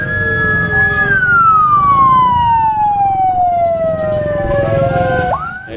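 An ambulance siren at a cultural parade in Teluk Bayur wails loud and close, holding a steady tone, then gliding slowly downward in pitch before a brief upward chirp at the end.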